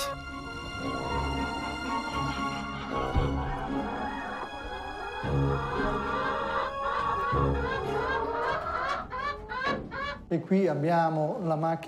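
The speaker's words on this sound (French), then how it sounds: "Le village des poules abrite 350 volatiles de race livournaise, élevés en liberté pour leurs œufs" Free-range Livorno breed hens and other fowl in the Pope's poultry yard, clucking and calling nearby in a busy overlapping chorus, with a person speaking over them for much of the time.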